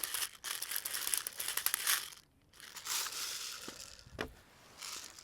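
An airsoft gas magazine for a Tokyo Marui recoil gun is loaded with BBs using an Odin speed loader, heard close as rattling, crunching bursts broken by short pauses, with no voices.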